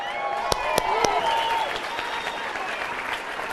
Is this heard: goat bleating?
no